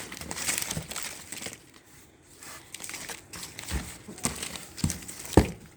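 Crinkly plastic wrapper of a Kinder Joy surprise egg being torn and opened up close, with scattered rustles and sharper crackling bursts toward the end.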